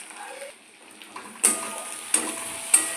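Spice powders (chilli, cumin, turmeric, coriander) frying in paste in a pan, with a soft hiss and three sharp scraping strokes of stirring in the second half.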